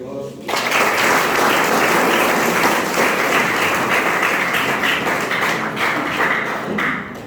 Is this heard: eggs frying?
no